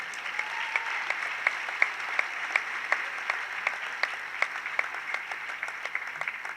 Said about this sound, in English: And big round of applause for everybody there.